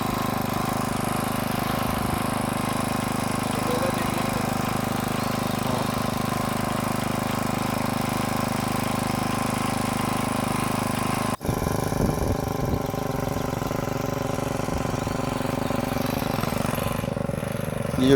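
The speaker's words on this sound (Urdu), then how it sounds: "یہ جو ٹریکٹر جہاں پہ چلا رہے ہیں" A tractor engine drones steadily while preparing farmland for sowing in Finland, a continuous mid-pitched rumble with a brief knock partway through, the machine then working on with rougher texture.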